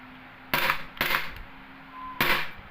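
A WE Glock 18 airsoft pistol, gas-charged after a repair for weak shots, fires three sharp, loud cracks, two close together then one after a pause.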